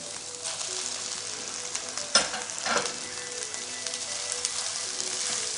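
Boiled rice hitting a hot pan and frying for egg ginger fried rice, a steady close sizzle with a sharper burst as more rice drops in and stirring scrapes through it, no voices.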